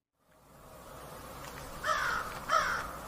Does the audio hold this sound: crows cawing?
yes